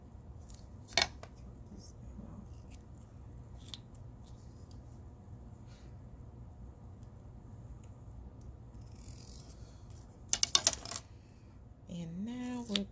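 Scissors cutting wallet material into three strips, a few sharp snips separated by pauses, close and quiet, with soft handling noise in between.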